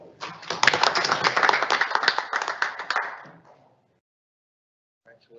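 Board meeting attendees clap together in a burst of dense, close applause lasting about three seconds before fading to silence, with a brief faint sound near the end.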